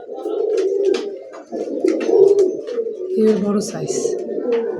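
Grizzle racer pigeons coo repeatedly up close, soft throaty calls overlapping in an uneven rhythm, while a person talks over them.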